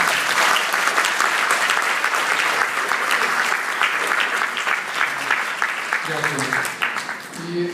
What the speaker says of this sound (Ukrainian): Давайте передадим ему аплодисменты от вас.